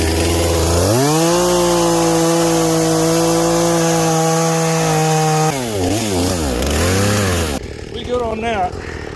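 A chainsaw makes a hinge cut to fell a tree, its engine holding a loud, steady whine up close before revving up and down in uneven surges near the end.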